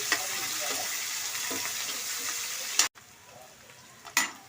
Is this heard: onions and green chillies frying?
yes